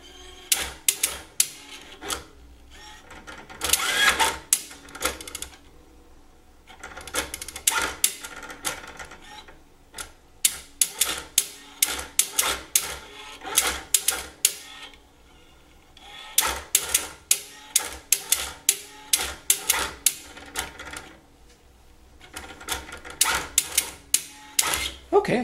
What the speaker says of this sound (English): Okay, so that's the plotter. It does its job. It drew one of the programs that it has stored